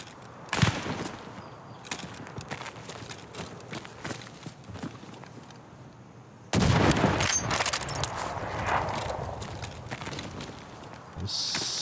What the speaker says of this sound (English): When I shoot this rifle